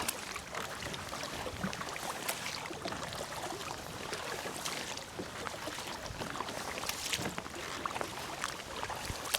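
A kayak is paddled on water at Manor Park, with soft, repeated splashes and water swishes under steady wind rush on a beautiful day, no one speaking.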